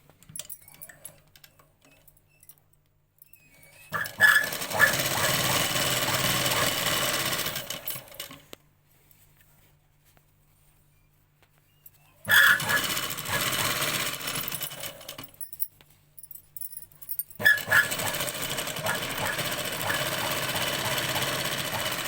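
A sewing machine stitches embroidery fabric in three separate bursts of fast, even mechanical whirring and clatter, each lasting a few seconds with near-silent pauses in between, close and fairly loud.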